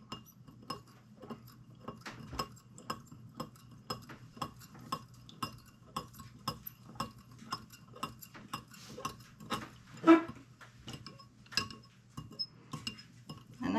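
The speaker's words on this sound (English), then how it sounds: "Let's mix this all up real good." A spoon clinks rhythmically against a bowl while ham basting ingredients are mixed, a steady run of close, fairly quiet taps with one louder knock partway through.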